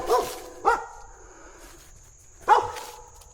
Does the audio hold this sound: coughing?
no